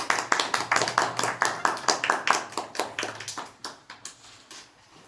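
Audience clapping for a speaker at a community education gathering, a close, rhythmic burst of hand claps that starts strong and thins out gradually toward the end, with faint voices underneath.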